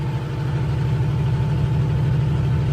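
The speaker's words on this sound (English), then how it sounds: "I go to shift up. And it's bogging." A Kenworth T680 truck engine bogging after an upshift on a Colorado Rockies mountain grade, a heavy, steady low drone that labors without climbing in pitch, heard from inside the cab.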